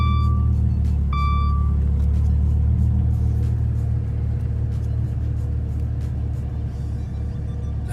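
A Dodge Viper with a six-speed manual transmission sits running with a loud, steady low engine rumble throughout. A pair of short electronic chimes sounds near the start.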